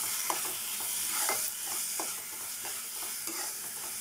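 Onion, coconut and cashew paste frying in a pan for a masala curry, heard as a steady close sizzle with repeated scraping strokes of a spoon stirring through it.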